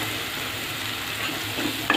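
Coconut, ginger-garlic paste and coriander sautéing in oil in a pan, a continuous close sizzle with soft stirring scrapes, alone without voices.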